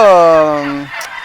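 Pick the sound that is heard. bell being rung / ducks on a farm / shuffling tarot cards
ducks on a farm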